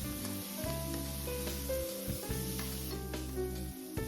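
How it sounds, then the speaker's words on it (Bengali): Ginger, garlic and green chili sizzle with onions in a pan for homemade palak paneer, a steady close crackling hiss with faint stirring and no talk. "এখন দিচ্ছি আদা রসুন আর এই কাঁচা লঙ্কা যেটা কেটে রেখেছিলাম, সবগুলো দিয়ে আবার ভাজা ভাজা করছি।"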